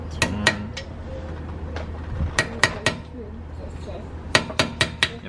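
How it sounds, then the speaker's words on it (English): Hammer strikes driving out the brake caliper screws on a 2018 or later Subaru WRX STI during a brake pad change, sharp metallic taps in quick groups of two to four with pauses between them. "There's just two screws that you just gotta hammer out."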